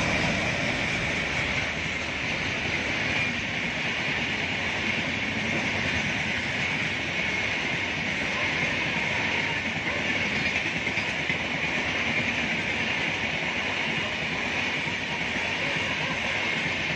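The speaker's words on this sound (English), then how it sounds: "so I ran quickly and captured this train" A train rumbles past close by near Sivakasi, India, a loud steady roar of wheels on rails that holds for the whole stretch with no talking.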